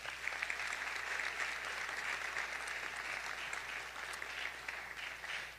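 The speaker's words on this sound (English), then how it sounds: "Please give yourselves a round of applause." Sustained applause from a large audience at an award ceremony and board of education meeting, steady and dense clapping throughout with no voices breaking through.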